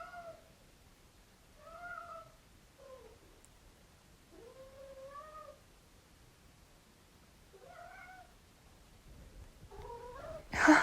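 A pet cat named Libby meows at night while catching her favourite toys, giving about six separate rising-and-falling meows spaced a second or two apart, close and clear, ending in a brief rustling burst.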